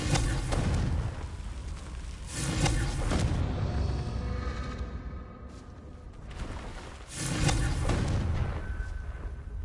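Blasting-spell explosions from the Hogwarts Legacy video game, several loud booming blasts in bursts with rumbling decay between them and no talk.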